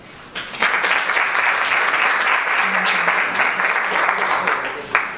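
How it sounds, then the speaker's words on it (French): Applause at a conference in a hall, starting abruptly and holding at a loud, even level of dense clapping, with a brief voice or two audible beneath it. "Je vous invite à applaudir chaleureusement notre premier intervenant"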